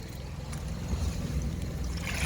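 Murky, dirty water draining out of a neglected garden pond during cleaning, a steady broad splashing and gushing close by, continuous and fairly loud throughout with no talk.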